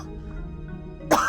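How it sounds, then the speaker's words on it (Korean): A woman coughs once, a short harsh burst near the end after a stretch of quiet room noise, close and fairly loud. "기침은 멈추질 않는다"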